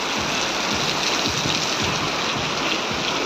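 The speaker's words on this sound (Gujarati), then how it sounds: "ડબલ વરસાદ ચાલુ થઈ ગયો હે" Heavy monsoon rain pours down in Morbi, Gujarat: a dense, unbroken roar of close, loud downpour with a low rumbling churn beneath it.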